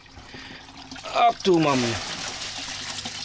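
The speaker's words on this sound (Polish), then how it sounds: "Tu mamy filtr, pompka w wodzie, która nam pompuje wodę. do tego filtra i nam czyści." A small water pump running in water, feeding a filter on a live-bait tank, giving a soft trickling, gurgling flow under someone speaking Polish nearby.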